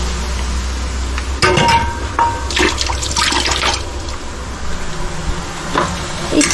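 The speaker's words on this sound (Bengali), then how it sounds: "এবারে জলটা দিয়ে দেবো" Water pours into a cooking pot of lightly browned chicken, a close, loud continuous splashing and gurgling stream with a few clatters of the pot, no one speaking.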